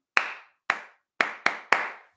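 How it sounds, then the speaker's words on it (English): Two hands clap out a rhythm pattern with no voices: two spaced claps followed by three quicker ones, each a crisp, close, bright smack with a brief decay. "every time I clap something, I will say to myself, don't clap this one back."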